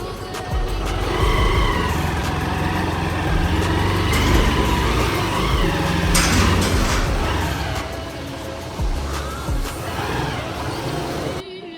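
A motorbike takes a shortcut through a side gate into a home compound, its engine running close and loud for several seconds, with clattering and bumps as it moves through.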